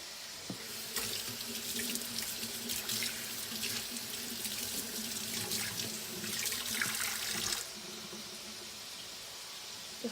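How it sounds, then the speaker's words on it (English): A kitchen sink tap runs steadily for about seven seconds while a sponge scrubs a spatula that touched raw meat, with splashing and scrubbing close by, then the flow stops, leaving a faint dripping hush. "So just gonna take the sponge and wash this."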